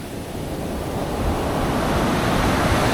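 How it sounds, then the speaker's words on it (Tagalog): Loud ocean surf crashes and rolls continuously in stormy weather at a fish terminal, with wind buffeting the microphone and a steady roar building slightly toward the end. "mga bagyo pa and malakas yung mga alon"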